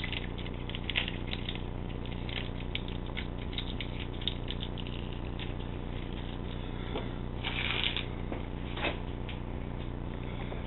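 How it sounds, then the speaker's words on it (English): The dry outer skin of an onion being peeled off by hand, heard as faint crackly rustling and papery tearing over a steady background hum, with a few slightly louder crinkles and no talking. "peel off the outer layer, the very outer layer, and the skin"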